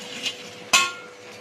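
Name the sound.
adding lentil fritters (bora) into the curry pot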